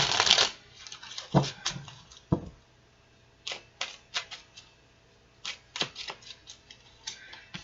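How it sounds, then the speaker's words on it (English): Tarot cards are shuffled close by in quiet riffles and soft taps, a flurry at first, then scattered light clicks and flicks spaced out over several seconds. "let's pull some cards, see what fulfillment is for you"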